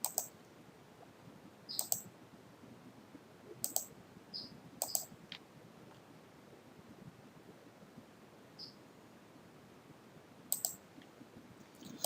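Sparse computer mouse clicks while navigating the file menu of the NetBeans IDE, a handful of sharp, quiet single and double clicks spread out over a faint steady background hiss.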